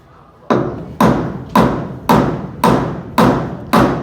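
Hammering nails by hand: seven loud, close, sharp thuds at a steady rhythm about every half second, each ringing off briefly, with no talk.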